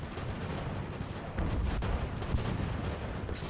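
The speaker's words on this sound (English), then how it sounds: "Cannons opening fire." Cannons open fire on an eighteenth-century battlefield in the naval-era strategy game Ultimate Admiral: Age of Sail, recreating the Battle of Bunker Hill: a dense, continuous roar of booming artillery that swells louder partway through, with no voices.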